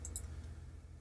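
Computer mouse clicks while editing a blog page: two quick, sharp clicks close together near the start and another at the end, faint over a low steady hum.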